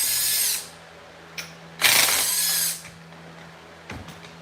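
A small cordless impact driver removes screws from the cover of a Stihl FS 91 string trimmer, giving two loud bursts of about a second each with a short click between them, close up and without speech.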